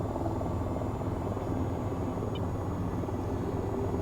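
An AH-94 helicopter in the VTOL VR video game holds a steady, dense rotor drone with a low thrum that stays constant throughout.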